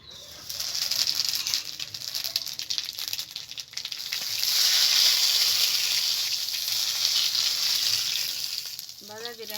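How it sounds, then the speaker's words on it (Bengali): Cumin seeds sizzle loudly in hot, pungent mustard oil for a Bengali breakfast dish, a steady crackling hiss that swells midway and holds close and clear with no talk. "ফোড়নে জিরিয়ে দিচ্ছি।"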